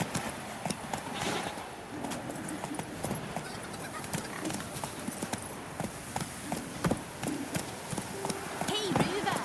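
Hoofbeats of the horse Roach galloping in The Witcher 3, a steady run of clip-clop strikes with an occasional whinny, heard under a man's speech and game ambience.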